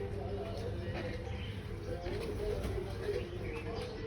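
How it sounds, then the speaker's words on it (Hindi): Pigeons of mixed white, black and blue varieties coo at a pigeon house in a cow shelter, soft, low murmuring calls blending with steady ambient noise and faint background voices. "ये कबूतर, जिसमें अलग अलग प्रकार के कबूतर हैं"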